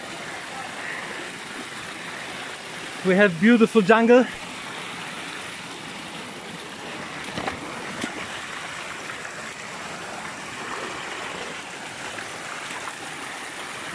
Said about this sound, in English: We have waterfalls, we have little pools